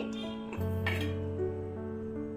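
Onion pieces added to a bowl while preparing egg pakoda, giving a short clatter and clink of utensils against the bowl with a steady low hum underneath, no voices.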